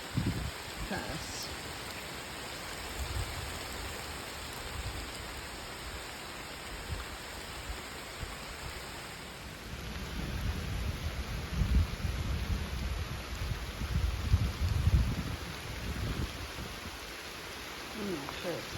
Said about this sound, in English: now the rain just really picked up, so we're hiding under a tree